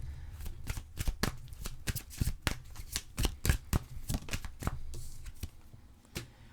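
Oracle cards being shuffled by hand in a quick, uneven run of crisp riffling slaps and soft paper flutters, close and fairly quiet, with no talking.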